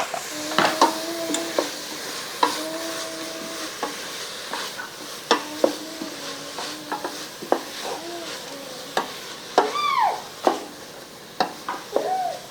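Carrots sweating in a pot for hot and sour soup, a spoon stirring and scraping with repeated sharp clinks against the pot over a gentle sizzle, close and distinct, no voices.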